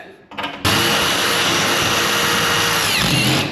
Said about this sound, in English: drill all the rivets out on the side that we're replacing